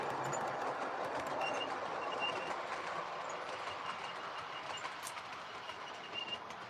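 A train rolls past outside a loft during a live indoor Q&A, a steady broadband rumble with faint rail clatter that holds for the whole stretch and slowly eases.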